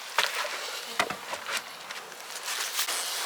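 Honey bees cluster on top of a hive's top cover in winter, giving a faint, soft buzzing with a few small taps and patters, close and quiet with no talk.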